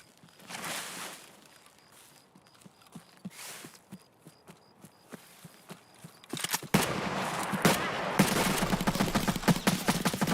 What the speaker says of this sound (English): I'm hearing shots from that way.